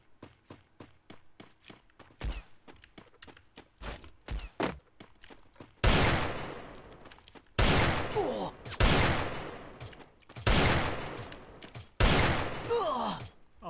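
Gunfire from sniper rifles and pistols rings out in a Free Fire match, beginning with rapid light shots and then several loud, spaced heavy blasts with long echoing tails, close and sharp.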